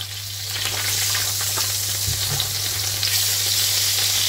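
Butter melting in extra virgin olive oil in a pan over lowered heat, a continuous close sizzle and crackle with a low steady hum underneath and a couple of soft knocks partway through.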